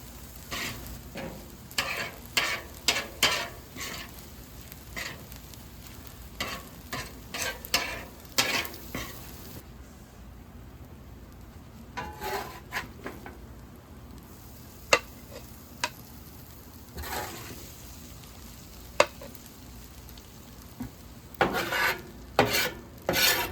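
Japanese-style yakisoba noodles with sauce are stir-fried in a pan, giving a soft ongoing sizzle under repeated brisk scraping and tossing strokes in bursts, with a quieter pause partway through and no voices.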